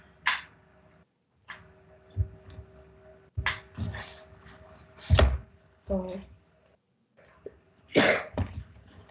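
A single sharp sneeze, loud and close, breaks out in the middle of a spoken lesson, with people talking before and after it.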